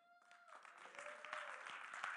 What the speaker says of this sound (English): He deserves a hand clap.